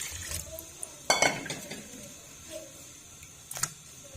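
Cut potato pieces and water going into a pan in a home kitchen, heard as a sharp clatter and splash burst near the start, then a few softer knocks and clinks close by with no talking.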